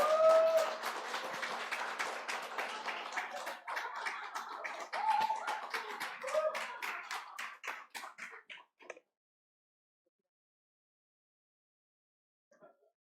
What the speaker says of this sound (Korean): 우리 나오실 때 큰 박수 부탁드리겠습니다.